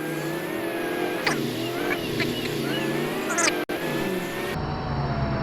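An engine drone and shifting revs from a vehicle driving in Arma 3 run steadily throughout, with people talking over it and a brief dropout near the end.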